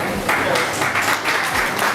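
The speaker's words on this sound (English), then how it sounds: "A big round of applause." Applause at an African humanitarian award event, a loud, dense burst of clapping from a crowd, mixed with some indistinct voices.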